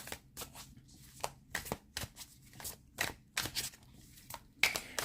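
Tarot cards being shuffled, a run of crisp riffling bursts and soft slaps in a steady rhythm, close and fairly quiet, with no talking.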